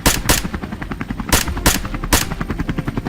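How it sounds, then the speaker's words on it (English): Rapid bursts of machine-gun fire from a helicopter aimed at wild boars near a farm, loud repeated cracks over the steady throb of rotor blades, with no speech. "Gunfire erupted in rapid bursts."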